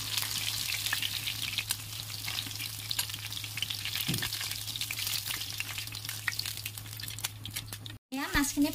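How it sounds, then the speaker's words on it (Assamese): Fish half-frying in hot oil in a pan for a pumpkin and fish curry, a steady close crackling sizzle that runs throughout with faint stirring scrapes, then a brief cut near the end. "মাছখিনি মই ইমান বেছি কৰি ফ্ৰাই কৰি নলওঁ, হাফ ফ্ৰাই কৰি ল'ম"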